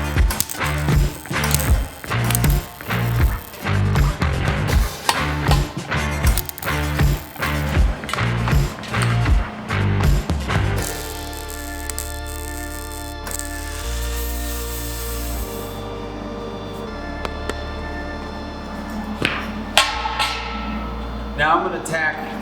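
Rapid metallic hammer taps on steel ring out in an uneven rhythm, close and loud, fitting pieces for welding, then give way to a steady hum with occasional clanks.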